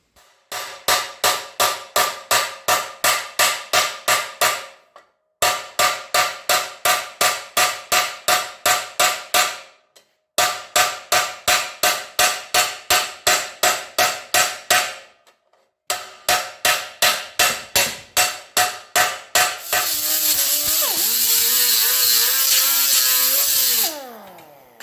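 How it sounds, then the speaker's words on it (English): A metal patch is hammered flat while held upside down, in four rapid runs of about a dozen sharp ringing blows each, separated by pauses, followed by a loud continuous grinding or power-tool burst at the end. "And I'll hit it down along here and flatten this out along here to sharpen up this corner here."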